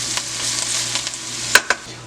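Onions, peppers, tomatoes and scallions cook in a pot for a codfish casserole, giving a steady bright sizzle with faint stirring scrapes and two sharp knocks near the end, no voices.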